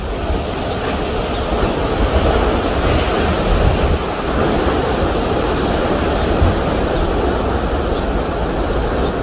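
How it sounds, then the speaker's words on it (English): Ocean surf rolls in steadily at Little Whale Cove on the Oregon coast, a loud, continuous wash of breaking waves with wind buffeting the microphone throughout and no talking. "So watch these waves coming in."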